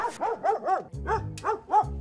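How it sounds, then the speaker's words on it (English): A dog barks in a home, a rapid run of close, loud, sharp barks with brief yelping tones, repeated in quick bursts. "I'm going to show you what to do when she barks."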